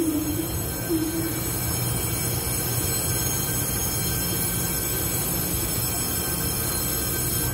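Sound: TEMU2000 Puyuma express train entering the line

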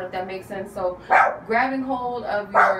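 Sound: dog barking

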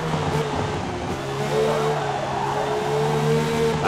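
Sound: BMW M1 Procar sliding on uphill corner, Forza Motorsport video game

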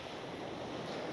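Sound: ocean waves at Eagle Beach, Aruba

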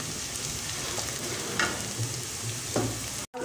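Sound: garlic and ginger frying until golden brown

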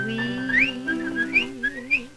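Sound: whistled imitation of birds singing

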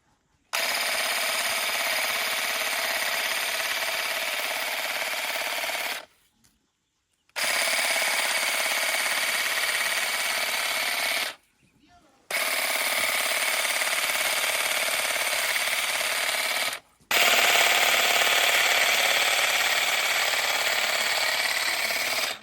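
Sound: Procraft hedge trimmer cutting a bush

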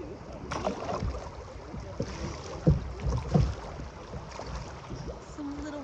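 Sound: kayak paddling through little whitewater rapids in a creek

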